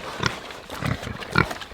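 Pigs grunting over feed they refuse to eat, three short rough grunts spaced about half a second apart, close and moderately loud with no voices.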